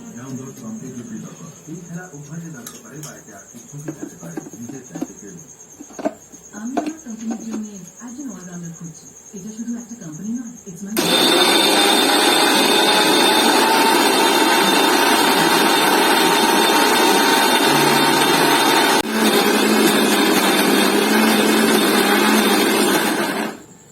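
Electric mixer grinder grinding khesari lentils in a home kitchen, bursting on after quiet talk and running as a loud, steady whirring roar for about thirteen seconds before cutting off, with a brief dip partway through.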